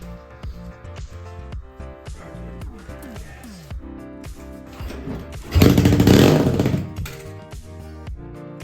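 A Yamaha XS650 motorcycle, abandoned for 15 years, starts and runs with a rough, uneven engine note and clattering mechanical knocks, then surges louder in a brief rev before settling back.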